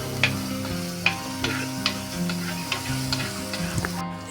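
Shallots, ginger and garlic sauté in hot coconut oil with mustard seeds and fenugreek for a Kerala-style fish curry, giving a steady close sizzle broken by sharp pops and spatters and the occasional stir of a spoon.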